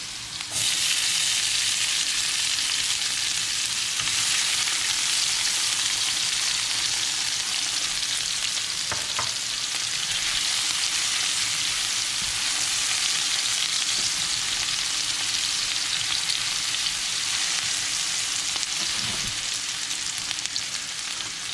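Garlic paste and onions frying in hot oil in a pan give a loud, continuous sizzle that persists throughout, with occasional stirring scrapes and no voices.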